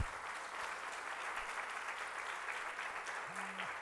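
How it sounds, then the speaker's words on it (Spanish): A conference audience applauds Eduteca, a steady, full wash of many hands clapping throughout, somewhat distant, with a faint voice near the end. "Pido un fuerte aplauso para Eduteca"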